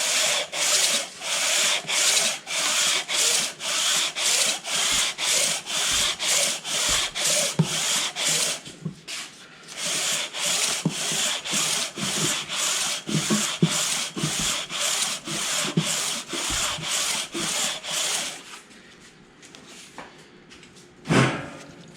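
Rhythmic back-and-forth strokes of a wet sanding block resurfacing an LS cylinder head, loud and close, a long steady run with a brief pause midway, ending with one last scrape.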